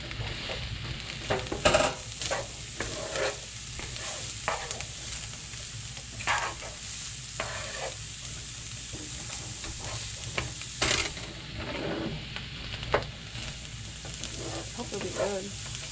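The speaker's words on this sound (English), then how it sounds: "Again, that sizzle." Onions and peppers sizzle and crackle in a hot pan, with occasional louder scrapes and stirring clatters over the steady frying hiss.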